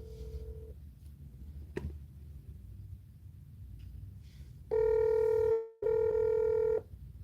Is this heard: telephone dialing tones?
yes